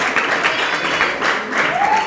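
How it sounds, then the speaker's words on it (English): Brief burst of audience clapping at a comedy club, moderate and close, rising and falling in a couple of swells over about two seconds. "You can applaud that, sure."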